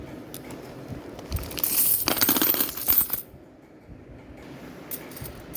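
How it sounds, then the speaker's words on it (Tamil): A packet of 10 rupee coins from the 2024 Mumbai mint, marking the 75th year of independence, is tipped out in a loud metallic cascade lasting under two seconds, followed by a few faint clinks. "நான் உங்களுக்கு காயினை வந்து ஒரு பாக்கெட் பிரித்து கொட்டுறேன் பாருங்கள்."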